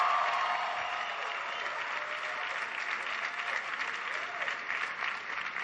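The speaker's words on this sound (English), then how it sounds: "can everybody please give Faith a big round of applause for the great introduction" An audience at a gathering with Barack Obama in Washington, D.C., applauds for Faith's introduction, a dense sustained round of clapping from many hands filling the room evenly throughout.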